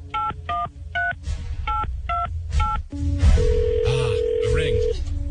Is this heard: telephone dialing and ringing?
yes